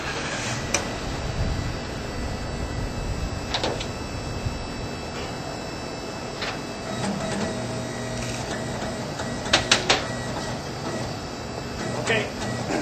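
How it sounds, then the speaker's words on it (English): Seatbelt rollover simulator machine turning a vehicle cab at a steady pace, a continuous mechanical rumble with rattles and a few sharp metallic clanks near the end. "this simulates a rollover at about 40 miles an hour"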